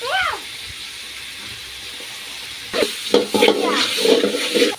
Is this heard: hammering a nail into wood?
no